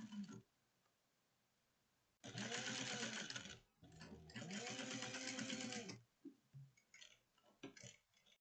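A sewing machine runs in two bursts, back stitching a seam on a 1/4-inch seam allowance for a fabric drawstring bucket bag. A short pause falls between the bursts, and a few faint clicks follow.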